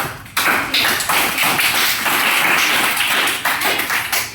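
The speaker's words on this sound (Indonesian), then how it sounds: "Oke, tepuk tangan. Give a applause for." Students in a seventh-grade classroom clapping their hands together, a dense, close run of claps that starts abruptly and continues steadily without talk.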